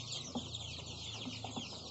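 Chickens being moved on a poultry farm cluck in soft, short, scattered calls over a steady low background hum, faint and somewhat distant across the brief stretch.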